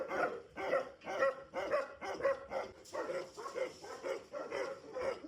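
Tibetan Mastiff dogs barking at a kennel, steady rhythmic deep woofs repeating about twice a second, moderately distant and continuous throughout.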